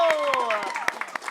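Scattered, uneven claps ring out from the audience at a musical show as a guest performer is welcomed, with cheering voices blending through the sparse applause.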